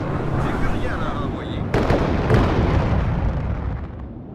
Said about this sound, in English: We hit that with a bombing strike.